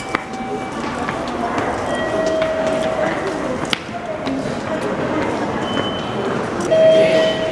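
Steady rumble of a Tokyo train riding from Asakusabashi Station toward Shinjuku Station, heard from inside the car, with occasional faint whines and soft background voices.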